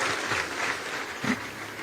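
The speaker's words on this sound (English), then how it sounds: "Please give them a round of applause." Brief audience applause at a keynote event in Delta State, a short, fairly loud burst of clapping.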